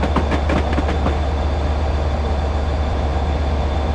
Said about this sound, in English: Modern train on a historic route.